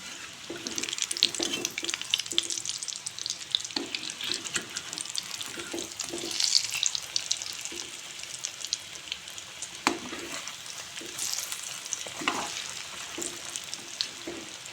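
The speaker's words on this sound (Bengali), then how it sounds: "এখন সবগুলি চপ একটু একটু করে ভেজে নেব।" Egg and potato chops deep-fry in hot oil in a wok, giving a close, crackling sizzle with irregular bursts of spattering and a few light clinks of a utensil, with no voices.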